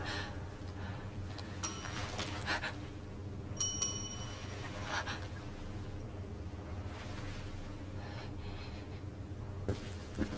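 A hotel bell in the video game The Medium rings in a few short metallic dings, spaced apart over a low, dark ambient drone in a haunted hotel, with faint breathing-like sounds between.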